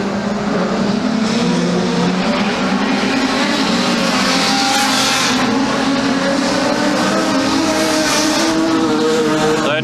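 Production sedan race cars on a clay track, a continuous loud roar of several engines blending together with shifting whining tones, no talking.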